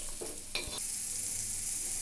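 Chopped onion with coriander sizzling as it is sautéed in a pan for mutton sukka, a steady hiss of frying with a brief clatter of stirring near the start, close and moderately quiet.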